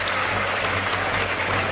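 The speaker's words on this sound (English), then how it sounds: "gets a round of applause off his manager Stuart Maynard." Brief, steady burst of crowd applause at a National League football match between York City and Braintree Town.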